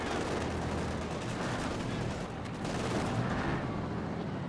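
Gunfire from an M3 half-track in a strategy video game, a steady dense wash of shots and battle noise that stays loud and continuous throughout with no talk over it.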